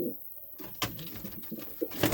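Pigeons, a cock and his hen among a loft of white sport birds, give soft, faint coos and rustles close by, a few brief calls spread over a couple of seconds.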